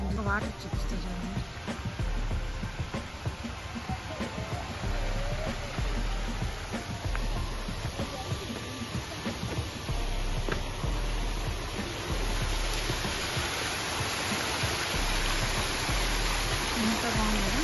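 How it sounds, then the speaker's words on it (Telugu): Stream water at Pragati Resorts runs in a steady broadband rush, close and constant throughout without letup. "ఎంత బాగుంది కదా, నాలాల సౌండ్ వస్తుంటే ఎంత బాగుందో"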